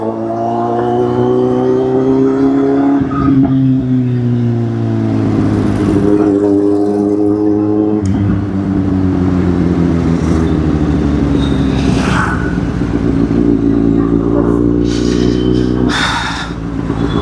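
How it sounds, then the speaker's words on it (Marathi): Busy city road traffic, with cars and motorbikes streaming past at close range. Engines drone and shift pitch, and a few louder passes and horn-like bursts come near the end over a continuous loud rumble. "भाई साहेब एवढं ट्रॅफिक आहे."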